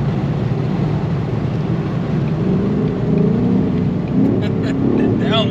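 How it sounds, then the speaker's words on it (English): Engine of a 2018 Mustang GT 5.0 with Performance Pack, heard as a loud steady cabin drone with a low rumbling swell as it downshifts, voices talking over it. "The downshift is crazy."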